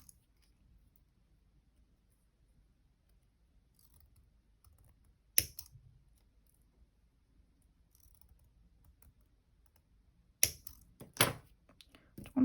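Snips of scissors trimming leftover thread on a handmade leather pineapple keyring, heard as a few sharp close clicks, one isolated and then a quick cluster near the end, over an otherwise quiet room.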